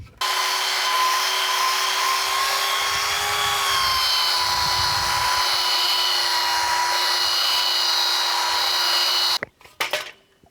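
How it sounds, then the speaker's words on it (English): An electric sander running on wood in a home workshop, a steady loud whine held for about nine seconds before cutting off, then a few brief knocks, no talk. "I'm going to give this a quick sand on the electric sander"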